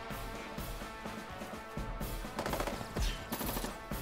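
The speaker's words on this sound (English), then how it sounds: "Infantry fire" Infantry gunfire attack in Advance Wars 1 Reboot Camp: rapid, crackling bursts of rifle fire rattle steadily for about four seconds, growing denser and louder toward the end.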